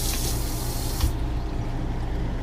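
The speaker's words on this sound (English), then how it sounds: "So you got a premium faucet in here with a flip-flop switch." Water runs from a premium pull-out rinse faucet with a stainless finish and flip-flop spray switch in the kitchen of a 2015 Winnebago Minnie Winnie 331H motorhome, a close steady gush whose spray hiss cuts off sharply partway, with no talking.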